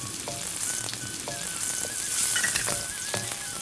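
Garlic, green chilli and turmeric sizzle steadily in hot oil in a pan, a continuous frying hiss with a few brief scraping stirs and faint thin tones over it, no voices.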